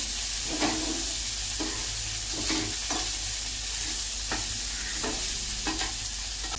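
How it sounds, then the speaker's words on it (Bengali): Sweet corn kernels stirred in a hot frying pan, a steady sizzle running throughout with repeated scraping strokes of the spoon roughly every second, close and clear with no talking. "সুইট কর্নগুলো দিয়ে দিলাম, নাড়াচাড়া করে মশলাটা দিয়ে দেবো।"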